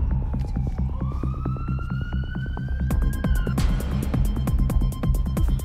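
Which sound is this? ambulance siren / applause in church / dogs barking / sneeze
ambulance siren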